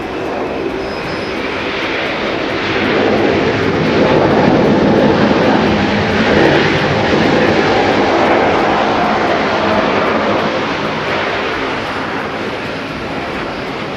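A Japan Airlines airliner roars at Haneda airport, a loud broad engine rumble that swells toward the middle and holds steady for many seconds without a break.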